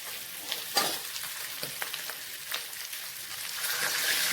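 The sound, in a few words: potatoes with spices frying in a pan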